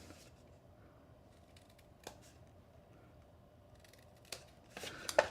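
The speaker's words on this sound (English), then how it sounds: "And then a little miter cut here on this section." Small miter cut on a wooden shadow box piece, faint scattered sharp snips and clicks that grow into a short louder cluster of crisp cuts at the end.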